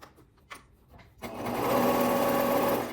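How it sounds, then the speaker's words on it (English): A sewing machine stitches around a waistband seam. A few faint taps come first, then the motor starts and hums steadily through a continuous run of stitching, close and moderately quiet. "we're gonna sew all that around"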